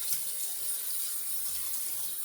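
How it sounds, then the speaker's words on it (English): Tap water runs steadily for a rinse after a wet shave with a Razorock Daily Groove razor, a soft continuous hiss and splash at moderate level with faint low thumps. "let's rinse"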